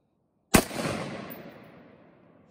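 A single sharp gunshot with FMJ ammunition fired at a PACA level 2 body armor vest during a test, loud and abrupt, then a long fading outdoor echo.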